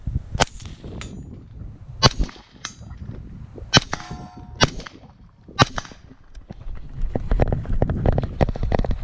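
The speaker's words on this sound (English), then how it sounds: "Not as much gas in the face with these flow through suppressors." Several sharp rifle shots from a KAC SR-15 fitted with a flow-through suppressor, crisp cracks spaced irregularly about a second apart over an outdoor background rumble.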